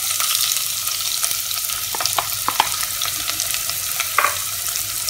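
Sliced onion frying in oil with cardamom, cinnamon and cloves, a loud steady sizzle with a few spoon scrapes and taps against the pan, heard up close without talk.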